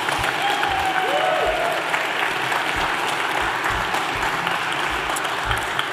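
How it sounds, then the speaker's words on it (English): An audience at a church service claps for children after their musical performance, a steady, moderate wash of applause throughout with a faint voice briefly audible within it. "give them a round of applause for their hard work"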